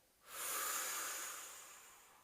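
During a vocal lesson, a focused breath is pushed up and out as a steady, airy hiss. It starts abruptly, is close and clear, and lasts about two seconds before slowly fading.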